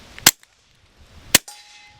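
A Taurus TX22 Gen2 .22 pistol fired with iron sights cracks out two sharp, loud shots about a second apart, the second followed by a faint metallic ring.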